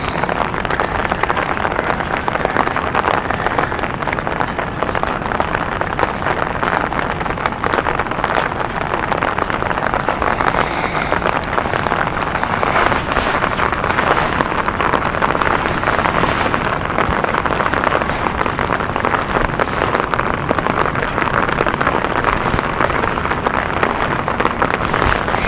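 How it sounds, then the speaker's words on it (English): Heavy rain pours steadily near an airfield at London City, a dense continuous hiss with no break across the whole stretch. "Heavy rain again."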